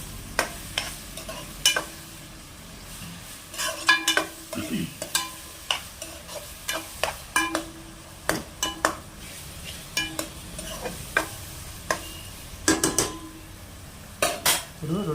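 Egg and mushroom curry base frying in a pan, stirred until golden with repeated sharp clinks and scrapes of a spoon against the metal over a continuous sizzle, close and fairly loud.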